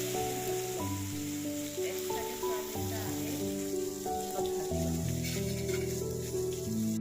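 Soaked soybean chunks frying in hot oil with turmeric, a steady close sizzle and crackle running throughout, with music playing over it.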